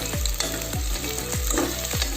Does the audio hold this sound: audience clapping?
no